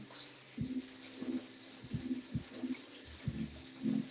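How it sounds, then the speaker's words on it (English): Tap water runs steadily into a kitchen sink while hands are washed beneath it, with soft splashes and brief rubbing sounds over the constant flow and no voices. "I'm gonna go ahead and wash my hands"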